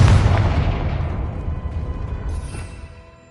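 Confringo explosive spell blast in the video game Hogwarts Legacy, a loud booming burst that hits at once and rumbles away over about three seconds, with no talking.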